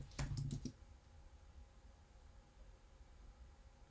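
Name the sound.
typing a password on a computer keyboard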